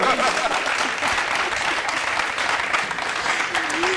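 A crowd in a television talk-show studio gives a sustained round of applause, thick and close, with voices faintly audible underneath the clapping.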